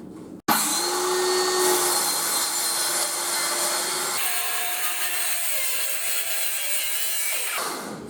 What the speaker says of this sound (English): Now I'm just going to cut it out with my cordless circular saw.